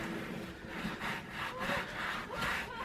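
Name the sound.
wiping excess off a suede bag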